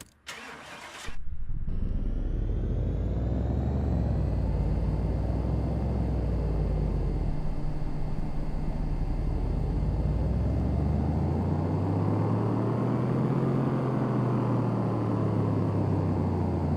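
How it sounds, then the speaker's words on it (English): In Car Mechanic Simulator 2018, an Ariel Atom engine cranks and catches, then roars on a dyno run. Its revs climb and sweep down, then rise and fall again in a loud, sustained drone. "So we're gonna go ahead and run the dyno and see what we get."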